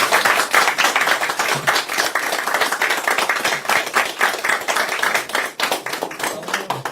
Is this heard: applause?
yes